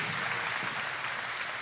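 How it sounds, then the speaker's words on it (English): Audience applause at a state fair sale of champions, a steady dense wash of clapping filling the whole moment with no pauses, moderately loud and close. "give them a round of applause"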